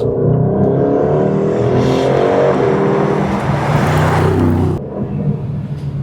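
An Aston Martin DB12 S engine in GT Sport mode revs hard and climbs in pitch through the gears, loud and close, then cuts back abruptly near the end.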